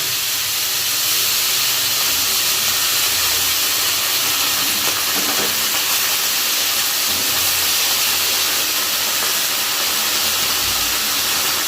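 Fenugreek greens dropped into hot oil tempered with black cumin make a loud, continuous sizzling hiss that holds steady and close throughout.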